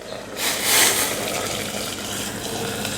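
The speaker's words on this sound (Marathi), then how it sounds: "आता यामध्ये आपण गरम पाणी घालूयात" Hot water gushes from a vessel into a pressure cooker holding steamed chicken, a loud, close, continuous pour that swells early and then runs steadily, with no talking.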